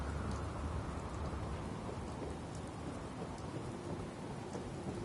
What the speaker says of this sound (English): Why am I dealing with this rain?